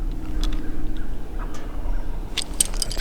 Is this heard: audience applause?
no